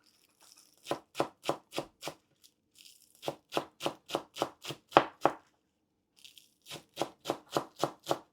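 Knife chopping green onions on a cutting board in a home kitchen, crisp close rhythmic chops in quick bursts of four to eight strokes separated by short pauses.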